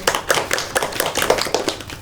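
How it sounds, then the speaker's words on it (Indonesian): A classroom group claps for a presenting group, a brief burst of quick, loud, uneven hand claps close by. "tepuk tangan buat kelompok 1"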